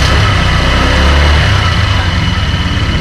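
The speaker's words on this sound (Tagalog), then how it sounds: "I-rev ko ng konti guys ha." A 2026 Honda Click 125 V4 scooter engine is revved slightly, a loud close mechanical drone that swells briefly then settles, with someone speaking over it.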